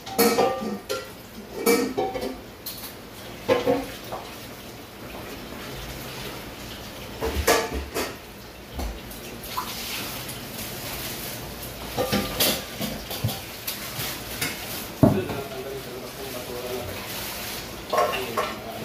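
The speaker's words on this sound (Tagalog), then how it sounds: "tapos na hugas si Boss Sandy ng mga kaldero at saka plato" Pots and plates clank and clatter irregularly over running water, sharp metallic knocks scattered throughout a continuous low background.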